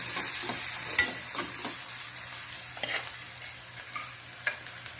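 Horse gram tipped into a pan of frying onions, a bright continuous sizzle broken by scraping stirring strokes and a few clatters of the spoon, close and alone.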